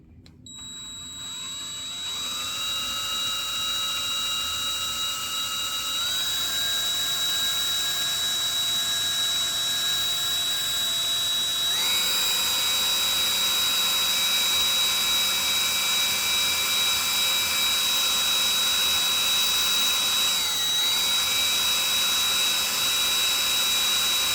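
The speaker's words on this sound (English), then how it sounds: "let me pause and I'll put this on the drill for you to see" A power drill driving a circular sock knitting machine, a loud sustained motor whine that holds steady and steps up in pitch several times, with no talk.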